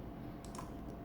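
A few quick computer mouse clicks while working on surface modeling in SolidWorks, two or three soft close taps over a steady low hum.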